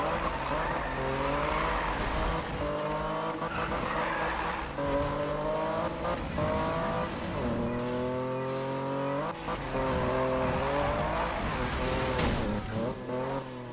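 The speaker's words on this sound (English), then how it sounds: "I want to drift up this way." A car drifting in Need for Speed, with a steady engine drone and long, wavering tire squeals that rise and fall as it slides through corners, loud and continuous throughout.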